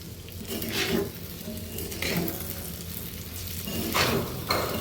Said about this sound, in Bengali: একটু হলুদ একটু লবণ আর একটু সয়াবিন তেল দিলাম